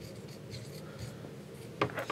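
A pen or pencil scratches across paper as a chemical structure is drawn by hand, producing soft, close strokes in short bursts with a brief firmer scrape near the end. No voice is heard.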